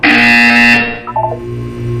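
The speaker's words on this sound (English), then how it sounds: "You will hear a buzzer." A loud, steady electronic buzzer in the video game Portal 2 drones for most of a second, then cuts off, leaving a softer synthetic tone with a few short blips.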